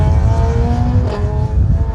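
A Hillman Avenger rally car driven by Ken Sturdy runs along a stage of the Colin Ellmore Memorial Rally with a loud, steady engine drone holding a sustained rev, close by and without talk.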